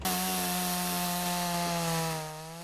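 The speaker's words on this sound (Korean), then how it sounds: "이를 제거하는 데엔 전기톱이 제격이지만 늘 위험이 도사리고 있어 긴장된 순간이기도 합니다" A chainsaw runs steadily at high revs, cutting through the thick roots of a 100-year-old pine tree being dug up on a Gangwon-do hillside, loud and close, easing off near the end.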